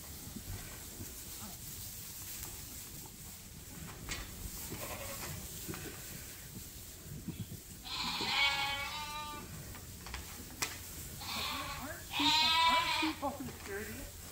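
Sheep bleating in a barn as hay is fed, several clear bleats near the end over quieter background rustling and movement.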